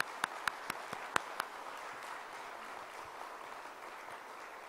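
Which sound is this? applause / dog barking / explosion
applause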